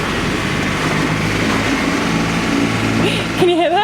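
A sailboat's engine runs at raised revs with a new propeller beneath it, giving a continuous low droning hum, while people talk nearby and a brief whistling tone rises near the end.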